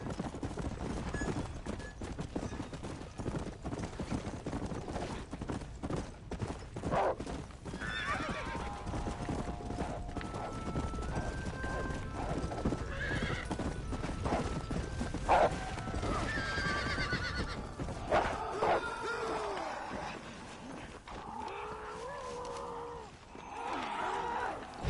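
A horse in the Undead Nightmare video game gallops with steady rhythmic hoofbeats and lets out loud neighs and whinnies in the later part, with game sounds layered over the hooves.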